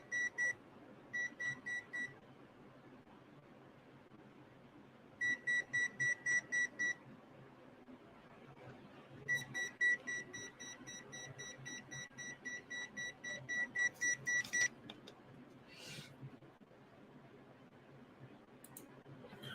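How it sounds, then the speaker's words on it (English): A device emits bursts of rapid high-pitched electronic beeps in several separated runs, fairly faint and close, with quiet background noise between the bursts. "And also it does have a beeping noise on it."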